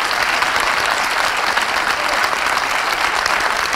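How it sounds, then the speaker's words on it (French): Audience applause fills a trophy presentation at an awards evening in Lons-le-Saunier, a dense, steady clatter of many hands at an even level, with no voices over it. "Voilà, sous vos applaudissements, là aussi pour la société Hidden 6."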